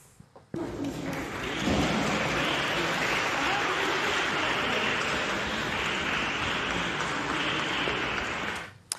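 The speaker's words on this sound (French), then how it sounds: "Ce matin à nouveau, Gisèle Pelicot est applaudie à son arrivée au tribunal." Crowd applauding outside a courthouse as someone arrives, a dense, continuous roar of many hands clapping that fades in abruptly and holds steady before cutting off.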